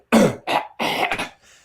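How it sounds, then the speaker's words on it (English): A person clears their throat in several harsh, raspy bursts, close up, with short gaps between. "Let me clear my throat."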